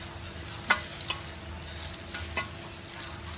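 Pork ribs with lemongrass and sugar frying over a low flame in a pan, a steady soft sizzle with a few light clicks of stirring, close and continuous.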